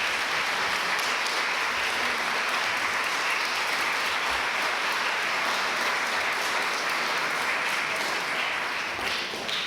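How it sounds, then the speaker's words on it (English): Audience at a women's awards ceremony gives a sustained round of applause, a dense steady wash of many hands clapping at even loudness for nearly ten seconds, with no talking over it. "Can we just once again give ourselves a hand of applause?"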